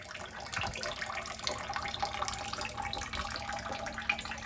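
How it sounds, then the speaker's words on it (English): Water drains from household plumbing lines into a 5-gallon bucket after the supply is shut off during a shower valve installation, a steady close splashing trickle that runs continuously without a break. "now I'm going to drain the lines into a 5-gallon bucket"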